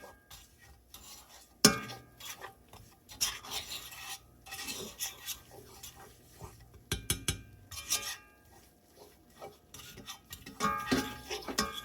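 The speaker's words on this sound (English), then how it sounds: "you're going to whisk it in with the butter" A whisk working three tablespoons of all-purpose flour into melted unsalted butter in a pan, quiet intermittent bursts of scraping and rasping metal strokes separated by pauses, close up and fairly faint.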